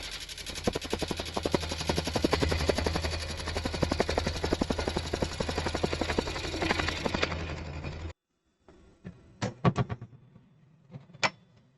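Wood lathe turning the face of a bowl blank, a dense, steady rattling chatter of the gouge cutting for about eight seconds, then stopping abruptly and leaving a few sharp knocks and clicks in near silence.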